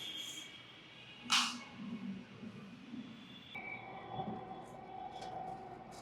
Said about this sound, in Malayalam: ഞാൻ ആദ്യമായിട്ടാണ് മെട്രോയിൽ കയറുന്നത്